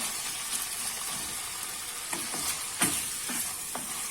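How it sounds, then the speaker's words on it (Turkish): Pieces of meat sear in hot oil in a pan under a constant loud hiss and crackle, with a few louder spatters and sizzling pops as pieces shift; near, steady and with no voices. "Evet yağım ısınmış. Şimdi etlerin içerisine alıyorum."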